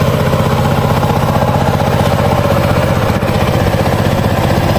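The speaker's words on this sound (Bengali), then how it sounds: "এই পাওয়ার টিলার কিন্তু আমাদের কৃষকদের একটি মহামূল্যবান সম্পদ।" A power tiller's engine runs in a farm field, a loud, steady, close chugging drone with a constant pulsing rhythm and no voices.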